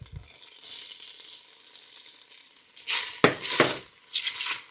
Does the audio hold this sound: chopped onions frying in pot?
yes